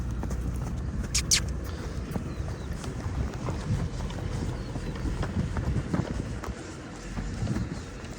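A Belgian draft horse trots outdoors on a farm near tractors, its faint, rhythmic hoofbeats partly buried under steady wind noise on the microphone.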